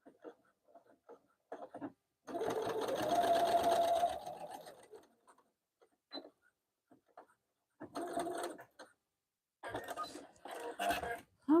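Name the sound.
sewing machine sewing zipper pouch lining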